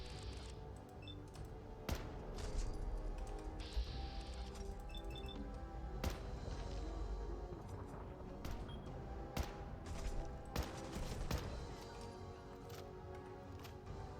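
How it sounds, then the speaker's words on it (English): Scattered gunshots from a firefight in the video game Fallout 4, sharp irregular cracks and clinks heard fairly faintly under game ambience. "You're just laying down the suppressive fire."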